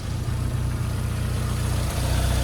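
A warm Rover Mini Cooper engine idles steadily with a constant low, throbbing rumble, close by and unbroken, with no voices.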